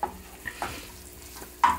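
Onions fry and are stirred in a pan during vegan sigara börek preparation. The sizzle stays soft and steady, broken by a few scraping stirs and a sharper clink near the end.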